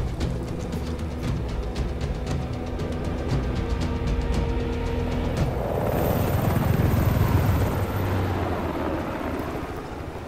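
Helicopter in the video game Ghost Recon Wildlands, a continuous rotor chop and engine whine held close and loud for about ten seconds, swelling into a rushing roar toward the end, with no talk.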